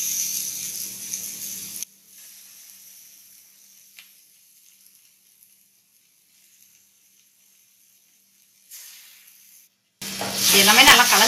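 Liver with pepper sizzles in a frying pan, a steady hiss at the start that cuts out into near silence with faint stirring sounds, then a loud, bright sizzle returns at the end.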